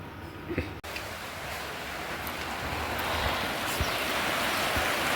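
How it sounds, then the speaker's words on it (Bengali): Light rain shower falling outdoors, a soft continuous patter and wash that grows slightly fuller over a few seconds after a brief click near the start. "দেখো আকাশে, দেখতেই পাচ্ছ, বৃষ্টি হচ্ছে হালকা করে"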